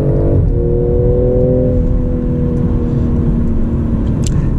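A BMW M340i xDrive with an 8-speed torque converter automatic drops to third on a steep turn, the engine note stepping up then settling into a steady, loud drone close by.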